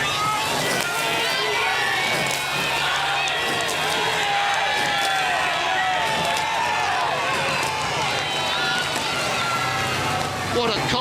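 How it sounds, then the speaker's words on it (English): A shouting crowd cheers at the start of a Henley Royal Regatta final between Britain and Germany, with coxes' calls and splashing oar blades mixed into a dense, loud, continuous roar; voices carry throughout. "What a cocktail of noise, the crowd, the blades, the coxes, the umpires launch."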